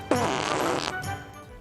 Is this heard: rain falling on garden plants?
no